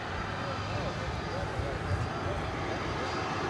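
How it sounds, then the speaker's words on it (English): A wide-bodied heavy aircraft at DFW Airport produces a continuous broad engine roar heard from a distance, with a person talking over it. "How about a wide-bodied aircraft? There's a heavy."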